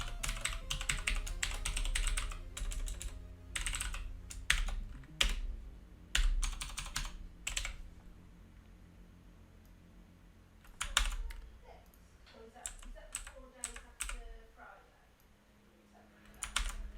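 Rapid bursts of computer keyboard typing during 6502 assembly work on a VIC-20 reverse-engineering session, fast clicking runs broken by short pauses, close and fairly loud with a faint background hum.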